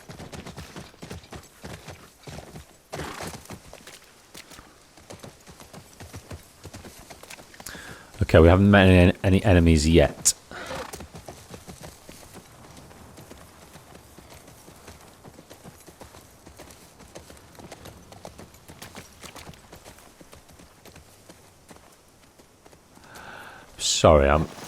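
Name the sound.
horse walking and whinnying in The Last of Us Part 2 video game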